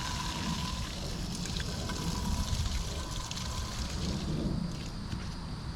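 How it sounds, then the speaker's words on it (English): Cold water pours into a Jetboil camping stove cooking pot, a steady splashing trickle heard close and alone for several seconds. "Throw some cold water in there so we can cool down a lot quicker."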